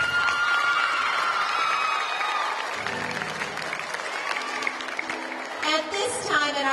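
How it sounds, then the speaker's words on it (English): A crowd applauds and cheers for the 2012 Royal Court at a school May Day program, moderately loud clapping with some shouts and voices, swelling again briefly near the end. "Give them a big round of applause"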